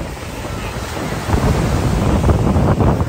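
Ocean surf rolls in on a Miami beach as a steady broadband roar, with wind buffeting the microphone throughout and the wash growing louder after the first second.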